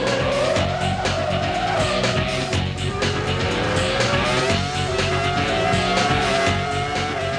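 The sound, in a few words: Formula 1 car braking late into chicane, tyres skidding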